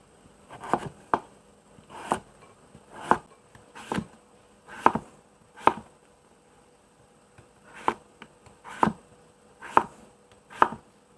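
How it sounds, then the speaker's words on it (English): A knife chops peeled purple sweet potato into cubes on a board, about a dozen crisp, evenly spaced thuds in a steady rhythm, close and clear with no talking. "Sweet potato has been peeled and we're going to cut it into cubes."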